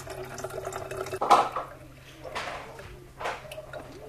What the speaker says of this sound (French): on éteint le petit bouton et l'eau sort donc tiède en fait